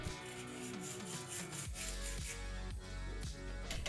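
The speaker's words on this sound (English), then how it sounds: "you still need to perform some wire brush scrubbing" A small wire brush scrubs corroded car battery terminals in steady, close-up back-and-forth rasping strokes, with no talking.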